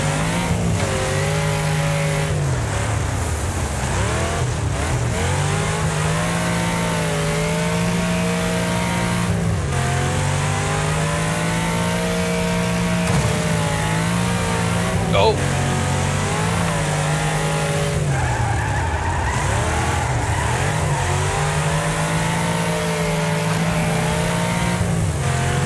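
Racing car engines in the demolition racing game Wreckfest rev and drone continuously at high volume, shifting pitch as several cars roar close together, with occasional tire squeal and no talking.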